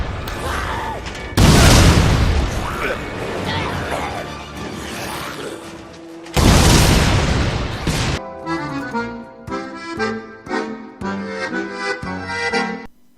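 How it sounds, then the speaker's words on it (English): Upgraded gun in the Dead Rising 4 video game fires flaming balls that set off two big booming explosions with long rumbling tails, followed by a stretch of game music. "now it fires out flaming balls that do giant explosions"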